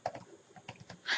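A search word is typed on a computer keyboard, a quick burst of soft, close key clicks over about a second with a brighter tap at the end.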